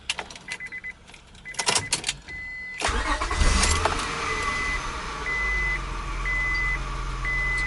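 A 1998-2002 Honda Accord after a transmission fluid change: keys jingle and click, then the engine cranks and catches, settling into a steady idle. Repeated electronic chime beeps sound over the running engine, heard from close inside the car.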